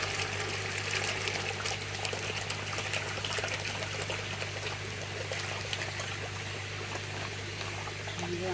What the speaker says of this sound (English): So I'm going to pour these into the net that's over the bucket.